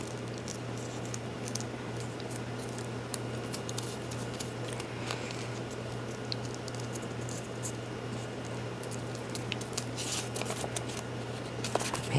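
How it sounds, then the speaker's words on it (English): Small paper pieces are folded in half while making a mini tri-fold accordion ephemera holder, giving faint, close rustles and crisp creasing taps over a steady low hum, with no talking. "Just fold these in half."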